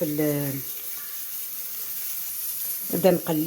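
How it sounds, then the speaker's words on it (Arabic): Onions fry in a pan with a faint, steady sizzle, heard mostly in the pause between bursts of a woman's speech at the start and end. "ها هو البصل درته كامل، نديره يتقلى شويه"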